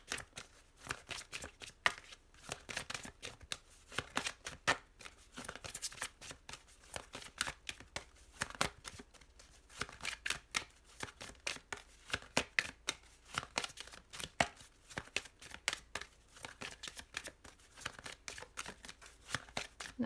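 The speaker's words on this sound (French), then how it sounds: "je vais tirer aussi les cartes de mon oracle des ombres" A deck of oracle cards is shuffled close up for a tarot reading, producing rapid, irregular bursts of papery riffling and soft flicks that repeat throughout, with no talking.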